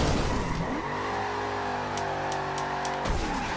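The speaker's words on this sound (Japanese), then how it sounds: "ジャンプしてからのドリフト" A Forza Horizon 2 car drifting after a jump, its engine revving loud and steady in a sustained high whine that drops off near the end, with no talk over it.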